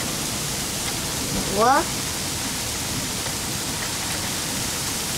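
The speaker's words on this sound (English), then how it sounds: "Think it's rain, but that's not rain. That's coming down as thundering. But that's hail." Hail pouring down in a thunderstorm, a dense, steady hiss of stones striking surfaces that continues throughout, with a brief spoken exclamation near the middle.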